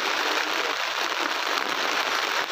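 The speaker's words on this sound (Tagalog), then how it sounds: "Grabe yung ulan!" Heavy rain pours down on a mountain campsite during a storm, a dense, steady hiss of drops with no breaks, loud and close, with no voices heard.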